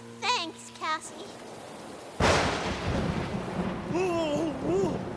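A sudden loud thunderclap cracks during a storm and rolls on as a sustained rumble with rain, while a voice talks over it and a brief melodic tune sounds beforehand.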